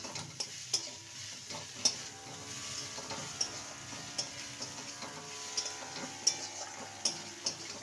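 A pointed gourd and prawn dish with sugar is stirred in a pan, light rhythmic taps and scrapes of a spoon recurring about every second over a soft, faint sizzle, with no voices.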